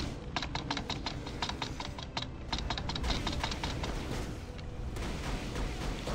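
A computer keyboard key is tapped rapidly and repeatedly to fire basic attacks in the mobile game Marvel Future Fight. The clicks come in quick, even bursts over a loud, constant game soundtrack, close to the microphone.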